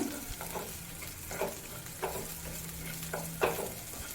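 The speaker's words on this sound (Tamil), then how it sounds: "வெங்காயத்தை நல்லா வதக்கிக்கோங்க" Sliced onions sautéing in a pan for a field-bean masala, a steady soft sizzle punctuated by several scraping spatula strokes, fairly close with no voices.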